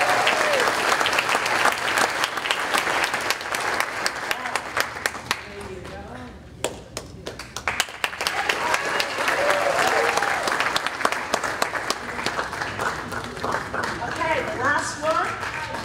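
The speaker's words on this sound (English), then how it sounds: "So clap at your class." A crowd claps for the senior class at Cohasset Senior Class Night 2023, with sustained rattling applause, sharp individual claps, a brief lull midway, and voices and cheers mixed throughout.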